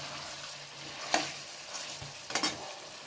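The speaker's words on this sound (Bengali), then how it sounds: "আমি এর মধ্যে আরও 2 বা 3 বার নাড়া দিচ্ছি" Buffalo meat, nearly half cooked, sizzles steadily in a pan with two brief bursts of spoon scraping and stirring partway through, close and fairly quiet, with no voices.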